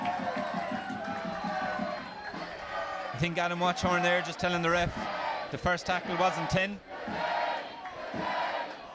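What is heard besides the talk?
crowd cheering at a schools rugby match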